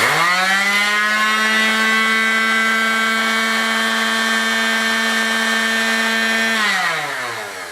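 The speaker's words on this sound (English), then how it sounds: "I've got a sander here, a random orbital sander." A random orbital sander, powered by a Bluetti AC180 portable power station, holds a steady, high-pitched whine at one pitch for several seconds, then spins down at the end, loud and close with no talking.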